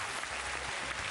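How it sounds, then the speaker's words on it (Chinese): An audience at a televised Chinese game show applauds after a high jump attempt, producing a short burst of dense, steady clapping. "掌声送给我们的梅林"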